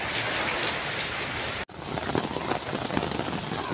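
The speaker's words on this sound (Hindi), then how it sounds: "बहुत ज़बरदस्त बारिश है जी।" Heavy monsoon rain pours steadily in the open near a shop, a dense, loud wash of drops on surfaces that cuts out briefly and resumes with sharper patters.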